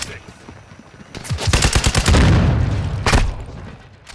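Rapid automatic gunfire from Call of Duty: Modern Warfare II, a dense burst of loud, close shots lasting a couple of seconds, followed by a single sharp report, with a player's voice talking over parts of it.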